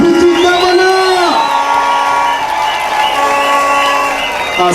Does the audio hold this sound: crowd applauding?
yes